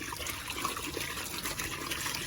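Pig splashing in water in a small pool, continuous sloshing and watery churning close by, steady and moderately loud, with no talking.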